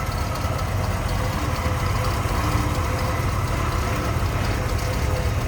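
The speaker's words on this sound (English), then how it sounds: "You can see smooth running 5 liter or 302." A 1983 Ford F150's 5.0-liter 302 V8 engine idles steadily and smoothly with a low, constant rumble, close by and uninterrupted throughout.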